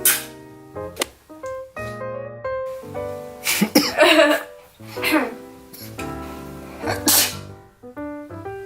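A sharp sneeze bursts out among children's voices and background music, with a second sneeze-like burst a few seconds later.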